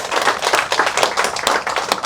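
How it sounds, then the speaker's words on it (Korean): A small audience at a commemorative panel discussion gives the chairman a brief round of clapping, close and lively hand claps lasting a couple of seconds. "우리 정규 회장님 다시 박수 한번 보내드립니다"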